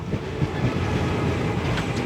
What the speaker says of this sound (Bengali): ট্রেন ঢুকলো মেচেদা